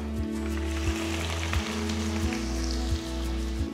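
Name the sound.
mustard seeds spluttering in hot oil for Nellore fish curry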